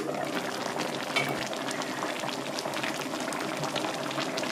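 Potato jjageuli stew bubbles in a pot, a dense, continuous simmering burble heard up close at moderate loudness with no talking.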